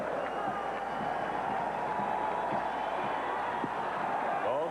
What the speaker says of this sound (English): a roar from this big, happy crowd in Pittsburgh